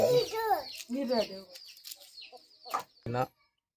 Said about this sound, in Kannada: ನೋಡ್ತಾ ಇರ್ಬೋದು ಹುಂಜ ಯಾವ ಥರ ಇದೆ